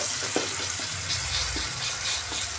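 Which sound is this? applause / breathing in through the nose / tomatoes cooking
tomatoes cooking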